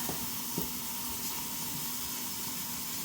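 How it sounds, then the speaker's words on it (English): Beef roast searing in an Instant Pot on the saute setting, giving a steady close hiss and sizzle with a couple of soft bumps and no talking. "I love the fact that I can saute it in the Instapot."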